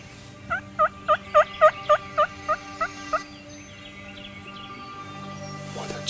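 A wild turkey tom gobbles outdoors on a Tennessee hunt, a loud nearby run of about nine rapid, rhythmic gobbles that fade toward the end, followed by quieter ambient sound.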